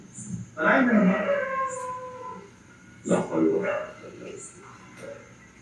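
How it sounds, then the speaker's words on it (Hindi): Dogs bark and howl outdoors in two loud bursts with quieter yips between, against faint open-air background; donkeys and birds are not clearly distinguishable. "गधे, कुत्ते, परिंदे, मिक्स आवाजें आना शुरू"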